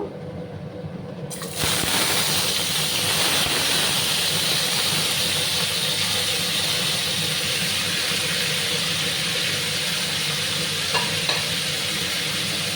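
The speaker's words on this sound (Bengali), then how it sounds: "এবার আমি দেখো সমস্ত সবজিগুলো আমি দিয়ে দেবো" Vegetables for a Bengali chachchari tipped into a hot pan, a burst of sizzling frying hiss after a quiet start, then steady close stirring and bubbling that continues without speech.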